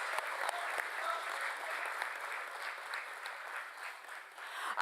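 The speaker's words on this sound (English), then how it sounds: "Let us have a resounding of claps" Steady applause from a seated audience at a formal civic ceremony fills the whole stretch, a dense wash of many hands clapping at even loudness with a few sharper claps near the start.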